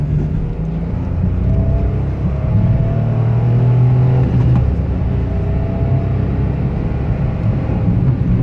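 A 2017 Mitsubishi Mirage SE with a five-speed manual accelerates in second gear, its small engine droning loudly from inside the cabin as a low, steady hum that rises slightly in pitch.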